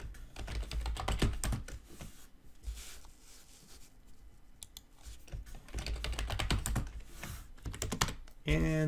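Rapid computer keyboard typing, close and fairly loud, in continuous bursts of clicking keys while a website name is entered; a short electronic tone sounds near the end.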